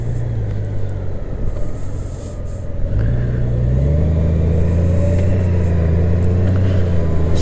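Honda Goldwing motorcycle cruising on the road in 37-degree heat, a loud steady low engine rumble with wind roar that dips briefly and then rises in pitch as the bike picks up speed.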